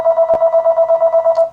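A telephone rings in a steady, loud electronic pulse, about a dozen evenly spaced short tones in quick succession, with a brief click partway through and no voices.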